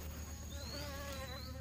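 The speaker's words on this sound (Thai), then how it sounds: "ผึ้งชอบมากๆเลยค่ะตอนเช้าเขาจะบานแบบนี้นะคะ" Bees buzz steadily around salvia flowers (Hummingbird Coral Nymph) in a sunny morning garden, a continuous close insect drone with a brief higher whine drifting through, no voices.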